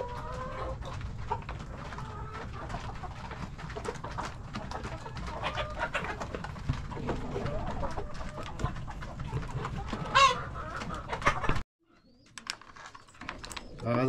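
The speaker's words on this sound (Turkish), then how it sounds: "10-12'ye kadar şey var, yetişkin tavuğumuz var. Bir tanesi bile yumurtlamıyor. İki tane horozumuz var gördüğünüz gibi." Chickens and two roosters in a backyard coop with ten to twelve adult hens, continuous close clucking and squawking with a loud bird cry near the end, someone speaking faintly underneath before a brief drop to near silence.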